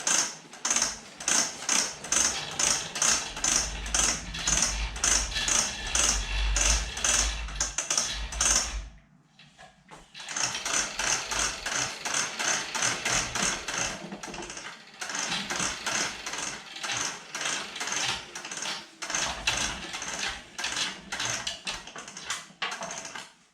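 A spring-loaded reel ratcheting as an air hose is pulled out, a fast run of rapid clicks with a brief pause midway, then the clicking resumes and continues steadily, close up.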